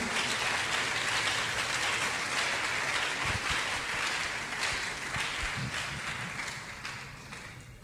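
A church congregation applauds in a dense, sustained burst of clapping, loud and close, that holds steady before gradually tapering toward the end.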